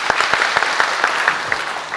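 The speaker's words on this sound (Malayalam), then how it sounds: "നല്ലൊരു ക്ലാപ്പ് കൊടുക്കും" Audience applause at a gathering in Abu Dhabi, a burst of many people clapping with some individually distinct, sharp claps standing out from the crowd, loud and close, lasting the whole moment.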